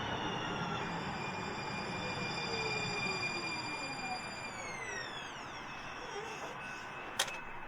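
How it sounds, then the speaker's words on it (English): A blue line trolley rolls into a station with a steady rumble and high metallic squeal that bends downward as it slows, ending with a sharp clank. "Here comes a train."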